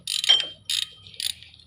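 A ratchet turns belt tensioner bolts on a Honda, three short bursts of clicking close by with brief pauses between them.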